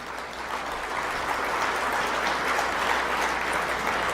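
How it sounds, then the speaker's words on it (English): Dense, continuous audience applause fills a Hall of Fame dinner room, a steady wash of many hands clapping at even loudness throughout with no talk over it. "So again, another round of applause for them before we start my Fund and Need job here."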